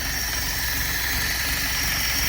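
A Renault Monaquatre car engine with its original motor idles low and steady just after starting, a continuous close rumble with even vibration and no voices.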